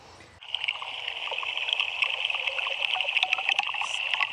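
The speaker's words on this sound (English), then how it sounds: "So you're hearing live what's happening in the pond we're standing 50 feet in front of." Live sound from a pond, picked up by a solar-powered transmission pod, begins abruptly after a brief quiet moment and continues as steady trickling and bubbling with scattered small clicks and splashes, with no voices.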